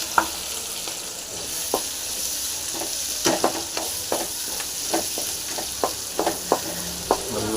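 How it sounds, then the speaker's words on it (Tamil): Gherkins frying in oil in a pan for a Tamil-style pickle, giving a steady sizzle with scattered crackles and pops, close and moderately loud with no talk. "நல்லா வந்து எண்ணெய் நல்லா ஃப்ரை பண்ணிங்க."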